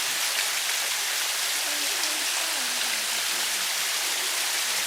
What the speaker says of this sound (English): Love the sound of a good waterfall.